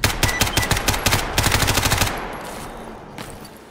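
Rapid automatic gunfire in Stalker GAMMA rattles off in quick bursts for about two seconds, then stops, leaving faint background noise with one more distant shot.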